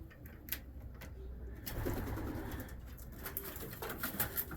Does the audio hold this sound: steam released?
no